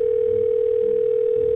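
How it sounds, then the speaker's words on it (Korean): A steady, loud telephone dial tone drones on without a break during a Minecraft roleplay, with faint background sounds underneath and no talking. "이제 리아한테 전화해봐야겠구만."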